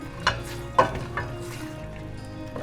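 Bakasi eel with black beans and soy sauce stirred in a hot pan indoors, a steady sizzle broken by a few sharp scrapes and clinks of the spatula.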